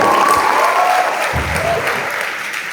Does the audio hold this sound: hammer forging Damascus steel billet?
no